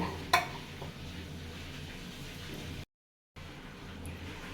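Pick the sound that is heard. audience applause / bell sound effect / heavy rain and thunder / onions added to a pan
onions added to a pan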